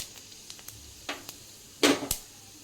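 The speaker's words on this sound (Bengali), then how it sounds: "একটু পাঁচফোড়ন দেব" Panch phoron spices sizzle in hot oil, with light crackles and pops scattered irregularly and two louder spitting bursts near the end, close and fairly quiet.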